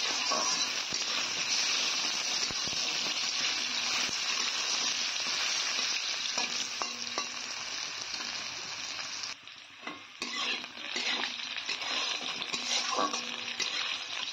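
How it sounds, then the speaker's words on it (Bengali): Raw potatoes fry in hot oil tempered with cumin seeds, giving a loud, steady sizzle that runs throughout, with occasional stirring scrapes and a brief dip near the end before the crackle resumes. "যার ফলে আলুটাকে আগে ভেজে নেব।"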